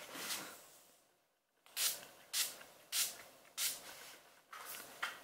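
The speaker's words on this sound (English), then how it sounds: "I use the Urban Decay D-Slick Makeup Setting Spray." Urban Decay De-Slick makeup setting spray gives about seven short, close pump sprays in a steady rhythm, each a bright breathy hiss, with a brief quiet pause near the start.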